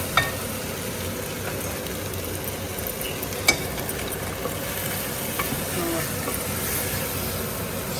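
Pasta tipped into a pan of cooked tomatoes, with a steady soft sizzle and scraping stir, an occasional clink of the utensil against the pan, close and continuous.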